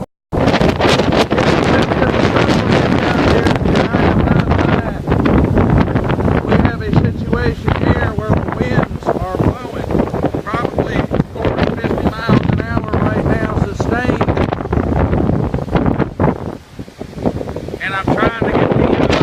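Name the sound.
strong hurricane wind during Hurricane Irma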